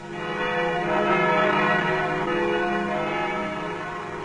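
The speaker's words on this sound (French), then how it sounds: "réglant le battant pour qu'il frappe la partie la plus épaisse de la cloche" A church bell rings close and loud, its sustained metallic tone humming steadily throughout.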